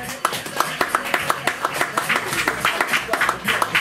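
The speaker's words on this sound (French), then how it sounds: "applaudissements pour lui s'il vous plaît" Scattered hand claps for MK Isacco at a radio event, irregular and moderately close, mixed with crowd noise and some talk underneath.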